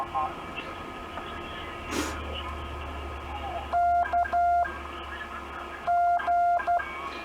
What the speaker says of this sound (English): you get little key clicks. They're not too loud.